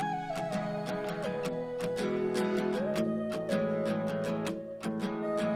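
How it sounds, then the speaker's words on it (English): A plucked guitar sample loops in a steady rhythm while a chopped, pitched vocal phrase slides over it, bright and upfront with no talking. "Then we just put this vocal chop on it"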